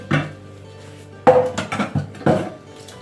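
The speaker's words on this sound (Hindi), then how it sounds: "मेरे ये चाय के बर्तन ये साफ कर लेती हूँ।" Tea utensils washed by hand with hot water, close clinks and clatters of metal and ceramic dishes knocking together in several irregular bursts.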